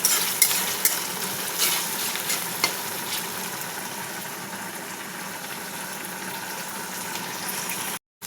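Tomatoes and ginger-garlic paste for a Konkan alambi (mushroom) dish sauté in a pan until browning, giving a steady, soft sizzle with occasional spoon-stirring clicks near the start, alone and fairly close.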